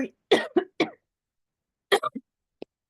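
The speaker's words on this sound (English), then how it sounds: "a little bit of a cough there, excuse me." A few short, sharp coughs in two bursts separated by a pause, close and fairly loud, with no talking.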